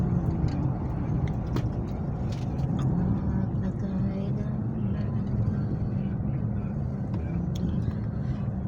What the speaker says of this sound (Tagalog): Oh my God, traffic. Grabe traffic dito.